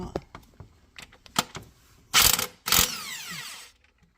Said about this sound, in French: On va dévisser la poulie dumper.